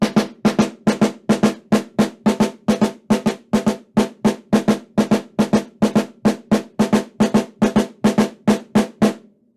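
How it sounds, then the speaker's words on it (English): Crisp marching snare drum strokes fall in quick pairs, a steady, even double-beat rudiment pattern repeated many times, loud and close with no talking. "Another exercise we often use in marching percussion is a double beat exercise."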